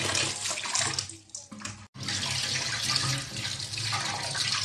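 Chicken pieces being washed in water, a continuous splashing, running-water wash close by with a brief pause midway, no voices.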